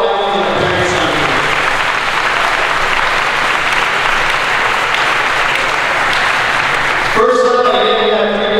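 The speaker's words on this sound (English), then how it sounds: "a big round of applause for all of our families and our parents down here" A big crowd applauds families and parents at Eastwood High School's 2024 signing day, sustained loud clapping filling the room for about seven seconds before a voice starts over the sound system.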